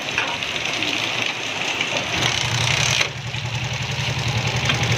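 Suzuki Smash 115 motorcycle engine with a misfire and cutting out, running steadily up close with a rough pulsing idle; partway through the note drops and changes as the engine falters.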